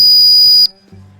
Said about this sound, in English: but it's a whistle